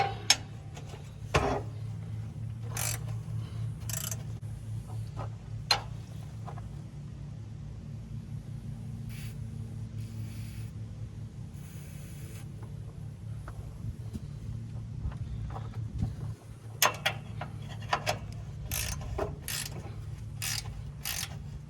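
A wrench working loose a corroded fuel tank bracket bolt on a cabover truck under restoration, giving scattered sharp metallic clicks and ratcheting ticks over a steady low hum, with occasional louder knocks.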